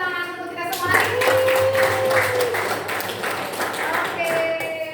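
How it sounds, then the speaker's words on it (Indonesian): A group of people in a physics classroom claps in a short burst of applause lasting a few seconds, with brief children's voices and tones around it. "Tepuk tangan untuk kita semua hari ini."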